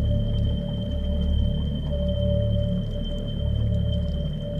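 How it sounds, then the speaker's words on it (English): Whale vocalizations captured underwater by an instrument tag on a whale in the Channel Islands marine sanctuary, a steady sustained tonal call holding over a dense low rumble of water noise, continuous throughout. "It also records whale vocalizations and all the sounds in the water, including passing ships."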